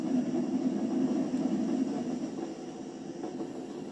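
A stopping passenger train running on the rails past a goods-yard corner, a steady low rumble and rolling hum that eases off slightly toward the end, heard from a moderate distance with no talk.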